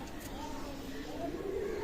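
Pigeons at a loft in Khulna, Bangladesh, give soft, low, rolling coos close by, with a steady murmur of cooing throughout the short stretch.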